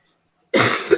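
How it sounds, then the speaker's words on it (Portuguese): A single sharp cough from a presenter during a talk on labor law, close and loud after a moment of silence. "desculpa ficar tossindo aqui na apresentação"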